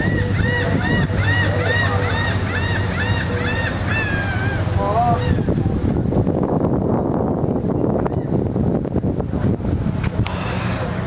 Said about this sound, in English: Beautiful beach.